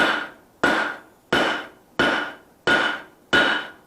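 A 6-pound hammer pounds knife stock flat on the face of an anvil while forging paring knives: six loud, evenly spaced ringing blows, each decaying quickly, with no talking.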